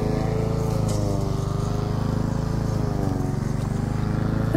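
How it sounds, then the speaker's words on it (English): A neighbour's lawn mower runs steadily on allotment paths, a continuous droning engine with a low rumble and a faint regular pulse, holding at a fairly even level throughout. "is our plot neighbour busy mowing"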